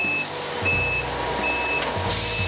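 A truck backs up on a freshly compacted driveway grade, its reversing alarm beeping at a steady repeating rhythm over a low, close engine rumble.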